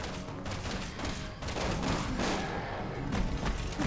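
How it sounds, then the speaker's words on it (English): Gunfire in the video game Resident Evil 6 crackles in dense, rapid bursts of shots with booming impacts, loud and continuous across the short stretch with no talk. "Leon shot him and drew his attention"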